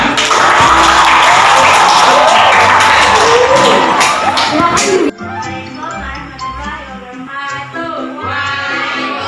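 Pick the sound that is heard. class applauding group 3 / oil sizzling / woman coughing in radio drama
class applauding group 3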